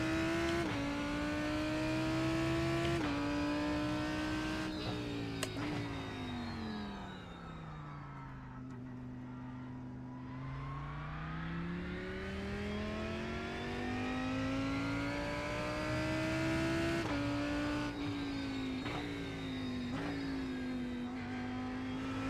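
A race car engine in the iRacing simulator drones and revs, pitch sliding down then climbing again as it accelerates, loud and continuous without talking.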